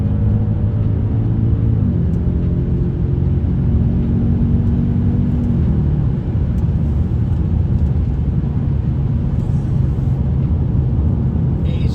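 Audi S5 with a V8 engine at full throttle, a loud, steady low rumble that holds throughout with a slight shift in pitch early on, heard from inside the car without talk.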